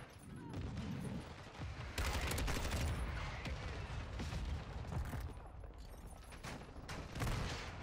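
Heavy gunfire and booming mortar-style blasts in Modern Warfare 2, dense and loud throughout with repeated bursts and impacts, a voice briefly audible amid the battle.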